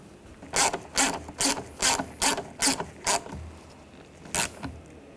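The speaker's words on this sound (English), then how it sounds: "we're going to tighten up the screw" Tightening the screw on the rear exterior door handle cover of a 2014-2018 GMC Sierra 1500 gives about eight sharp, close ratcheting clicks in a steady rhythm, then a pause and one final click, with no talking.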